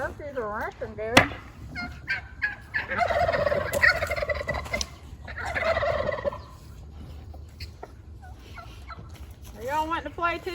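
Turkeys gobble in a loud, warbling burst near the start, followed by rougher honking calls and a few scattered gobbles later, with background clucks and a brief repeated gobble near the end.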